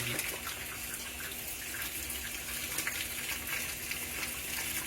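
Water gushing steadily into a Whirlpool WTW4816 top-load washing machine filling on a bulky cycle, a continuous splashing rush at moderate level with no talking.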